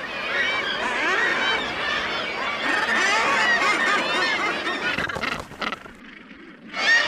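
Gannets at a crowded seabird colony call in harsh, overlapping honking squabbles while fighting over scarce nesting seaweed, loud and continuous, thinning out briefly before a final burst of calls.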